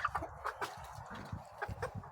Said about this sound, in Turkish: Tavuklar.